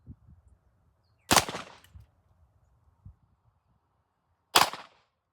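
Two sharp gunshots from a GForce Exodus RPX9 pistol, a few seconds apart, loud and close, with quiet outdoor background between them.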